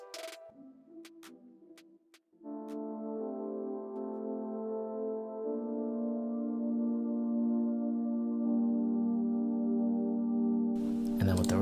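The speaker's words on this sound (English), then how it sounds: "I'm actually using the Challenger pad right here" A Challenger pad synth preset in Soundtrap plays alone as part of a song remake. A few short plucked notes come first, then a sustained warm chord swells and holds steadily before a burst of noise cuts in at the end.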